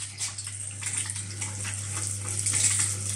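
Water runs steadily from a tap in a house with a mains water booster pump, a continuous broad hiss with a low steady hum beneath it, close and moderately loud with no talking.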